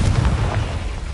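A Confringo blasting spell in Hogwarts Legacy detonates as a single loud, deep boom that rumbles and fades over about a second.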